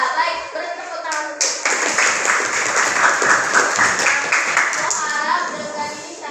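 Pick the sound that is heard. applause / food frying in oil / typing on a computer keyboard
applause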